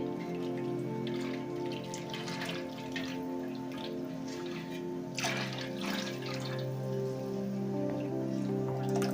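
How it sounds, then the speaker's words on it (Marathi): Liquid being poured little by little into a container while making papad dough, giving faint drips and small trickling splashes over a steady low hum. "आता हे आपण थोडं थोडंसं असं करून ओतणार आहे याच्यामध्ये बघा असं थोडं थोडस करून ओतायचं"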